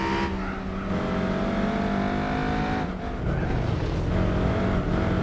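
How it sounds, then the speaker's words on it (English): A race car engine in Gran Turismo 4 holds a high, strained drone near the top of its revs. The pitch flattens out, dips briefly around the third second, then climbs again, loud and continuous with no talk. "You can hear it running out of revs."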